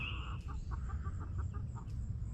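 Chickens on a farm, a flock of about 38 birds, cluck in a run of short, evenly spaced calls close by, with a steady low rumble of farmyard background underneath.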